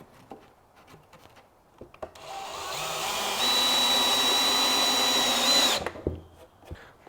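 A power drill whirs loudly and steadily for about three and a half seconds, driving in the top batten of a wooden barn owl nest box, with quieter taps and handling noises before and after.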